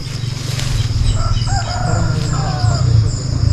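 A rooster crows in the distance over a steady low rumbling hum, with other faint bird calls mixed in.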